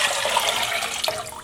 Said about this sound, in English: I'm gonna put my 4 cups of water,